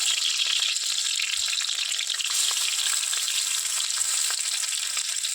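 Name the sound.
eggs frying in a pan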